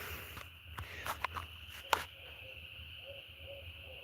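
An owl hooting at night near a stand of trees, faint and distant with a few soft calls spread out under low outdoor background noise and occasional scuffing sounds.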